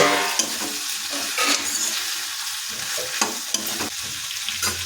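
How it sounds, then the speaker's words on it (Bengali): Beans, potato and eggplant fry on a low flame while being stirred by hand, a steady sizzle with soft scraping strokes running throughout, close and continuous. "এটা এখন ভালোভাবে হাতে দিয়ে নেড়ে নেব প্রায় আমরা এটাকে মিনিট দুয়েক ধরে লো ফ্লেমে এভাবে নাড়িয়ে নেব"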